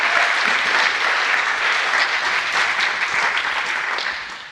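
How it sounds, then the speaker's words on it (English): An audience bursts into sustained applause after a juggling trick at a talk, a dense, even clatter of many hands that holds strong and then begins tapering off near the end. "deserves a round of applause"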